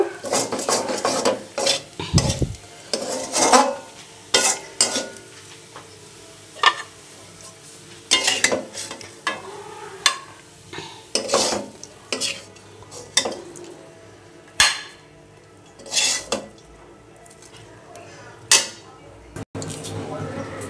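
Greens finished frying in a pan are scooped out with a metal spatula, bringing repeated scrapes, clinks and knocks against the pan over a soft sizzle, with pauses between strokes.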